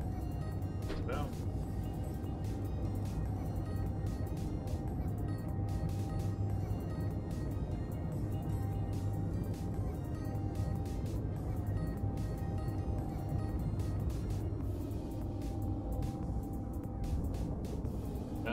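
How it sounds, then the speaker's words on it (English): Jet engine-like roar from a spacecraft in the Space Engineers video game, a steady loud broadband drone with low rumble that continues throughout. "The jet engine kind of sound effects I'm getting that I've not heard before"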